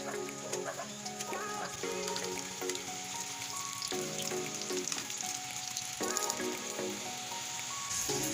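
Strips of eggplant deep-frying in hot oil give off a steady, close, dense crackling sizzle with scattered pops and small bursts, continuing evenly without speech.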